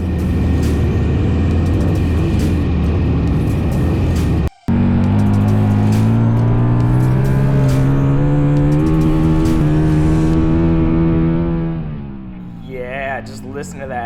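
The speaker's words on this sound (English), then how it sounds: "Just listen to that XR singing." A Harley-Davidson XR-750 race motorcycle roars loudly on a track, its engine note climbing steadily through the revs with one brief cutout, then fading away at the end.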